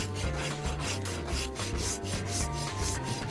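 A regular file scraping across a horse's hoof while the foot is trimmed and shaped, rapid rhythmic rasping strokes, close and continuous with no speech.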